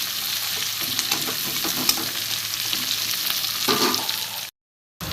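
Onion and garlic fry in a wok with a constant, close sizzle while a spatula stirs them, giving intermittent scraping knocks before a brief silent gap near the end.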